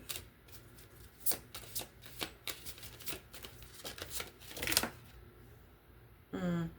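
Oracle cards being shuffled by hand: rapid, irregular riffling and slapping of cards, fairly close and soft, ending in a brief burst of flicking cards.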